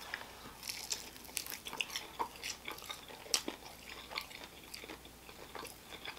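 Close, quiet bites and wet chewing on a homemade Wingstop-style chicken wing drumstick, with soft crunches and smacking scattered over several seconds and no talking.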